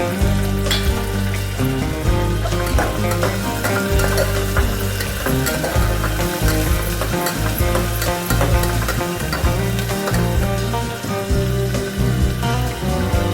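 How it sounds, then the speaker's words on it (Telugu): Chopped carrots and beans fry loudly in a pan for an Andhra-style tomato bath, a dense continuous sizzle with constant scraping and stirring throughout, close up. "అందులోనే క్యారెట్ బీన్స్ కట్ చేసి పెట్టుకున్నాం కదా, వాటిని కూడా వేసుకున్నాం"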